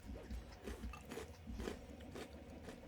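Close, steady crunching of someone chewing crisp Alpha-Bits cereal, with rhythmic bites repeating over a few seconds.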